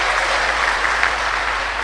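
A church congregation of women dressed in kebaya claps together during a Christmas sermon, a steady dense wash of applause holding at an even level throughout with no talking.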